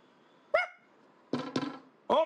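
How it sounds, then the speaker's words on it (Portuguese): A neighbour's dog barks three times, starting with a single sharp bark and then a quick double bark. A final bark closes the sequence, loud and close, with quiet pauses between. "Cala a boca desse cachorro aí!"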